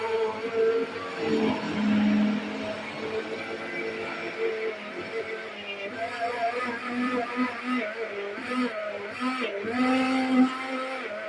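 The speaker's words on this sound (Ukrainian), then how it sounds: "І погружним блендером накриваємо, щоб яйце накрилося до самого низу і включаємо." A steady motorized whir of an immersion blender runs throughout, its pitch wavering slightly as it churns a thick egg mixture into mayonnaise, with no talking.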